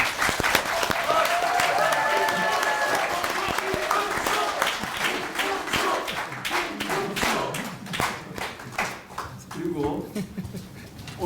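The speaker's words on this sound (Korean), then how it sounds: "필승의 박수를 듣는다 부탁드리겠습니다" Applause from a seminar audience at the National Assembly members' office building, steady dense clapping sustained for several seconds with a few louder individual claps and some talk mixed in toward the end.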